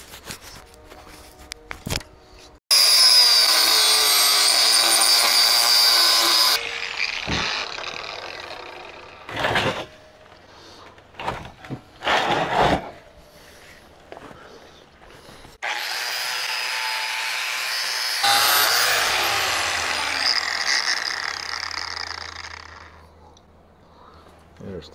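A power tool grinding welds on a Diacro table, with loud bursts of whining abrasion separated by pauses filled with clanks, handling noises and someone talking.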